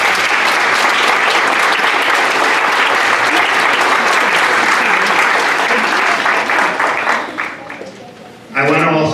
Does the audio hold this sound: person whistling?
no